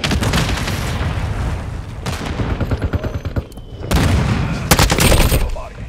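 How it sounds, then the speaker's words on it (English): Explosions and heavy gunfire from an airstrike in the Call of Duty Modern Warfare II video game, loud and continuous with bursts of rapid shots and booming blasts, and radio-style voices talking over the battle. "Hostile airstrike near your location."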